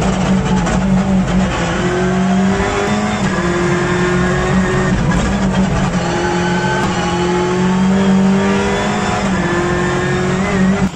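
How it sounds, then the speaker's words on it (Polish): An R5 class rally car driving at speed, its engine loud and close with repeated rising revs and gear changes, tyres hissing over the road, heard from inside the car with no talk. "przejazd na prawym fotelu już w samochodzie klasy R5 z krakowskim kierowcą rajdowym Marcinem Swobodzianem"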